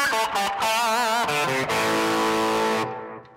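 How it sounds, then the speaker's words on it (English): A Kramer Pacer Classic electric guitar with its volume rolled down rings out a short run of sustained chords and notes, moderately loud and alone, ending with a fade after a few seconds. "So I'm getting a lot more tones out of the guitar now."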